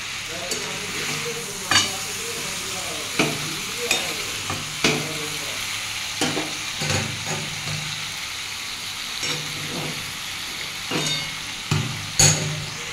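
Katoya data stalks being sautéed with fish head in a pan for Bengali chachchodi, a continuous sizzle broken by repeated scraping stirs of the spatula, close and moderately loud with no talk.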